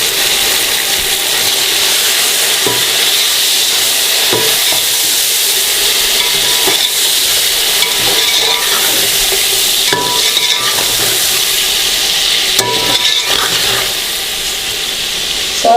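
Boiled beef added to a frying pot for yakhni pulao and stirred, with steady loud sizzling and hiss plus repeated spoon scrapes against the pot.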